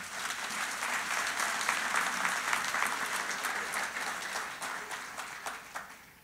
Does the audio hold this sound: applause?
yes